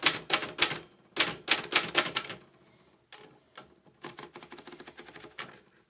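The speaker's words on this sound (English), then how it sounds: "now I'm typing using expanded spacing." An Olivetti Graphika manual typewriter types in expanded letter spacing, with crisp, loud key strikes close by in quick clusters, then a pause, then sparser taps and another run of rapid keystrokes, and no voices.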